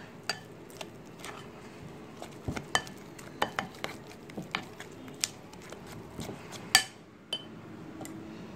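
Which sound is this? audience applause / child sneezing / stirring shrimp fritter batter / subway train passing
stirring shrimp fritter batter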